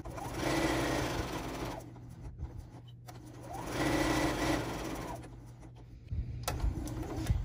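A sewing machine stitching fabric for reusable makeup remover pads runs in two steady whirring bursts with brief pauses between them, close and fairly quiet.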